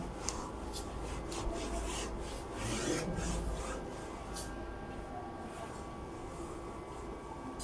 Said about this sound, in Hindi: इसे मैं रब करता हूं